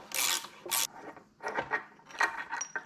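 Metal parts being loosened while servicing an OPC tractor: scraping and ratcheting bursts, rubbing and clicking in an uneven rhythm, close by with no talking.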